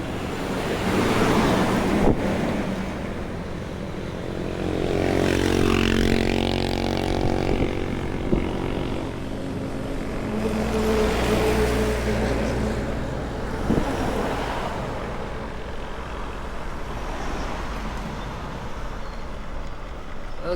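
Strong wind gusting outdoors at a roadside stop near a drive-thru in Quirino Province on a cold, rainy day, with heavy rumbling buffeting against the microphone that swells and eases in broad surges across the whole stretch.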